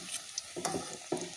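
Crispy wheat flour snacks deep fry in hot oil until golden brown, giving a close, bubbling sizzle. A few short stirring scrapes and splashes break through the sizzle.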